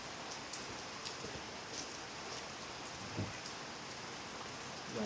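Steady rain falls on a surface in a broad, even hiss that fills the whole stretch, with a few sharper drops standing out and no voices.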